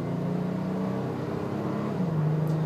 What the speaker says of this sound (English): 6-cylinder has a lot of pep to it, and it feels like a motor, and it sounds like a motor